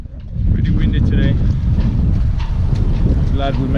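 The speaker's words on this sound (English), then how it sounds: "Pretty windy today." Strong wind buffets the microphone with a constant low rumble aboard a sailboat, while a voice speaks faintly underneath.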